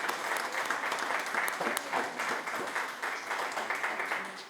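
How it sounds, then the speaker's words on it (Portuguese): Sustained audience applause at a community event in Campanhã, a dense steady patter of many hands clapping at moderate level throughout, with no talk over it. "uma salva de palmas."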